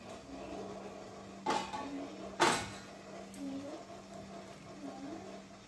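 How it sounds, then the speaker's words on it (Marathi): A lid lifted off a plate covering steamed phunke (dumplings), giving a short clank and a brighter metallic clink a moment later, moderately close in a quiet kitchen with a steady low hum. "आपण आता झाकण काढून बघूया"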